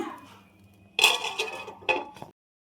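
A pan lid set down over bread pieces cooking on a low flame, giving a near metallic clatter at about one second and a second shorter clink shortly after, followed by silence.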